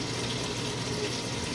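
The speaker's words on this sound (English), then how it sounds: "I'm going to like lightly water this plant." Water poured lightly onto a potted plant indoors, a short steady trickling splash close to the microphone.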